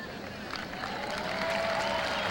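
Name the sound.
tennis crowd applause at US Open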